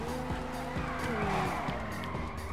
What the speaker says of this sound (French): le véhicule, comment il dérape, c'est incroyable